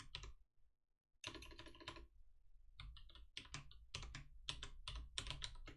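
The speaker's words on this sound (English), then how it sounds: "So I'm just going to type animal" Quiet, close computer keyboard typing while entering Python code: a few clicks, a short pause, then a denser run of keystrokes without talk.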